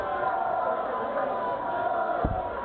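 Darts crowd at a seniors world championship quarter-final roaring continuously after a 180 maximum, a dense, loud sustained wash of cheering and chanting throughout.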